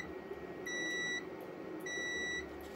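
Two short, high electronic beeps from a multimeter continuity test on a rewound generator stator sound in sequence, each lasting about half a second, over a quiet background hum.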